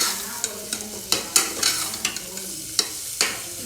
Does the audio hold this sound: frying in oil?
yes